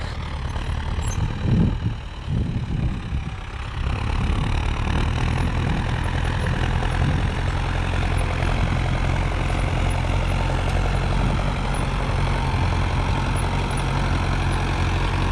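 Tractor pulling a GENERAL disc harrow across a field, a loud, steady heavy diesel drone with a constant low rumble and some clattering near the start, no talk.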